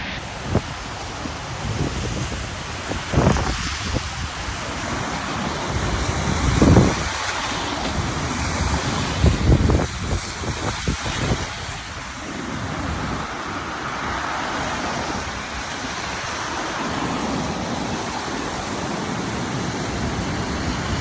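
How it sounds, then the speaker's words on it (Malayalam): The Grand River in Canada running high and fierce on a cold early-spring evening, a continuous broad roar of rushing water outdoors, heavily mixed with wind buffeting the microphone, with no talk. "ഇതാണ് നമ്മുടെ രൗദ്രഭാവത്തിൽ ഒഴുകുന്ന ഗ്രാൻഡ് റിവർ."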